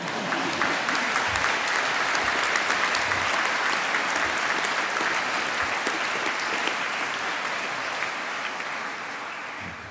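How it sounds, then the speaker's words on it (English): An audience at a December 2015 university graduation ceremony applauds in a dense, steady wash of clapping that fills the hall for the whole stretch, tapering slightly toward the end. "You can applaud."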